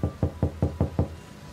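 Six firm, evenly spaced knocks on a door, close and loud, a sound effect in a horror story, with no talking.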